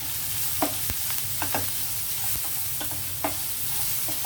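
Sliced onions cooking in a pan for raw banana (aritikaya) fry, with a soft, steady sizzle and a few sharp scrapes and clinks from a spoon stirring the pan.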